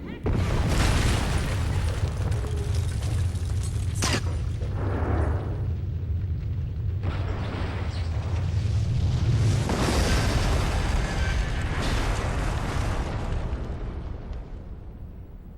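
A set demolition charge blows in the Enter the Matrix video game, with a deep rumbling boom and sharp bursts of debris over continuous low game noise and background music, with voices talking at points.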